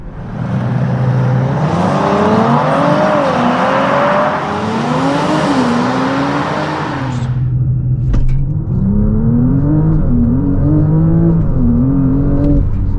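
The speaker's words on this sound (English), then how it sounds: "want to find out how fast the car launches 0 to 100" An Audi RS5 sedan (640 hp) engine roars hard as it launches, revving through rising pitch sweeps with brief dips at gear changes, loud and close, no talking.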